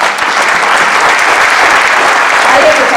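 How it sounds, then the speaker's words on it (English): Audience applause in an office gathering, a dense, loud, continuous clatter of many hands clapping close by for the whole stretch. "I just want to give a real strong shout out and applause."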